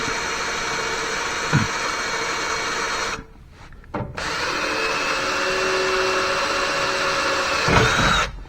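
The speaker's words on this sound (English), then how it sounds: "Small pilot hole, and we'll drill a little bit bigger one." A power drill whines steadily as it bores a small pilot hole into 3-inch metal channel on a trailer, pausing briefly partway through before spinning up again close by.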